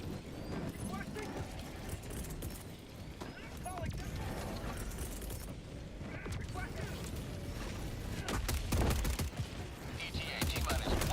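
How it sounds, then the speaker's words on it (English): A mech's Gatling gun unleashing a sustained barrage in a video game against Illuminate enemies, a continuous rattling stream of rapid shots that grows louder toward the end while a person talks over it. "This is like a absolute Gatling barrage."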